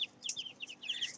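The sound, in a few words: chicks clucking in a pen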